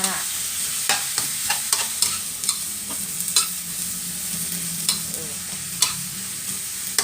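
Holy basil leaves being stir-fried with minced pork in a hot pan, a loud continuous sizzle with repeated quick scrapes and taps of a spatula against the metal, close and busy, with no talking.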